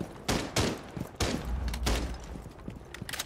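Gunfire from a semi-automatic weapon in the video game Rainbow Six Siege, a few sharp, loud shots in quick succession with booming low thumps in between.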